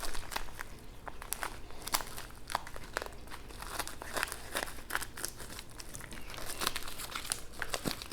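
A tarot deck in a crinkly plastic package is being unwrapped up close, producing continuous crackling and crumpling with sharp rustles throughout and no voices.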